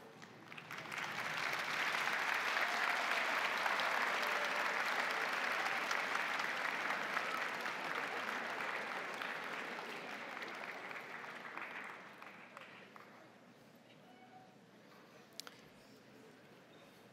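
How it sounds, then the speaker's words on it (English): Audience applause at a university kinesiology commencement ceremony: a dense, sustained ovation that swells quickly, holds steady for about ten seconds, then thins out and fades to scattered claps and room noise. "please stand and give your family, friends, and our faculty and staff a round of applause for their support."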